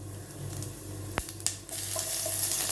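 Cumin seeds hit hot oil for tomato soup, a crisp frying sizzle that flares after a sharp clink of the pan or spoon and then settles into a steady crackle, with no talking.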